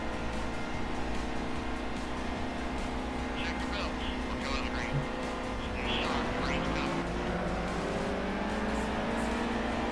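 Race car engines from the NASCAR Heat 2 video game at Daytona, a steady drone that rises in pitch after the midpoint as the car speeds up, with a voice talking over it.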